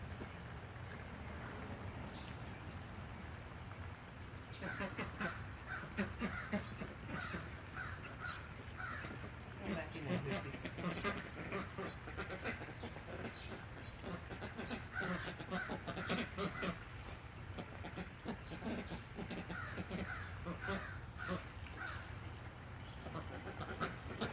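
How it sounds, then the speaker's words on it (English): Ducks that have escaped a garden fence calling in a loose flurry of harsh, honking quacks, moderately close over a steady outdoor background, with no talk. "the ducks got out of the fence"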